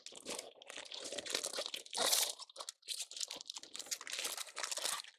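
Aluminum foil crinkles and crunches near at hand as it is folded into a boat shape around a Texas Gulf red snapper, with irregular rustling bursts and one brighter crackle midway.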